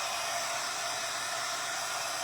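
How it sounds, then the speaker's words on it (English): A hair dryer runs steadily at close range, blowing on a glued corrugated cardboard snowgirl craft to dry it, a continuous even whoosh with no talk. "I don't want to blow it away. Let's see if I can just dry a little bit."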